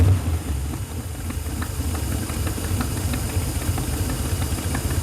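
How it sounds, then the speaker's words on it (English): Supercharged Corvette engine idles close by after starting, a loud, steady, slightly uneven rumble with faint ticking over it and no talk. "Now we're gonna start the engine."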